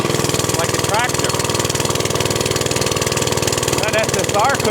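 An engine chugs along like a tractor at a swap meet and camping area, a loud, steady, rhythmic low putter running the whole time, with voices talking faintly over it.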